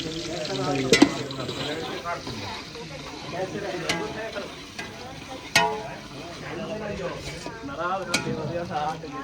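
Onions fry in butter in a cooking pot, a steady close sizzle broken by sharp spoon knocks against the metal, with people talking over it.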